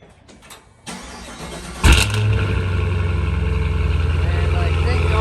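A Cadillac Blackwing engine cold-starts loudly with its exhaust valves open, a short crank giving way to a sharp roar, then a strong, steady idle that holds close and loud throughout.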